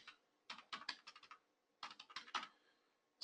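Fingers tap out a repository URL on a computer keyboard in two quick runs of close, crisp keystrokes separated by a short pause, with no talking.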